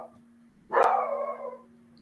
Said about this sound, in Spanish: Perdón, mis perros.